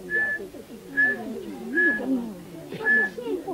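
Someone whistles to imitate the call of a legendary beast said to walk on its hind legs at night: four short, high, evenly spaced whistles over a low murmur of background chatter.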